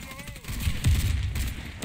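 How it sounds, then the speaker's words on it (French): Explosions and gunfire in a PvP shooter game, a grenade blast landing among rapid shots, with loud low booms and crackling bursts that overlap throughout. "Grenade!"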